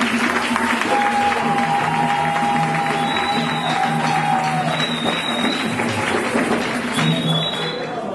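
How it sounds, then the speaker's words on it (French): An audience applauds as a steady, dense crowd of clapping with a murmur of voices and some whistling tones mixed in, fading slightly toward the end. "Alors, applaudissons très fort pour..."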